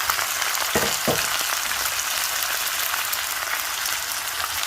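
Bottle gourd greens drop into a hot onion, garlic and dried chili tempering, starting a loud broadband frying hiss with a couple of thumps as they land, then a steady close sizzle and no talking.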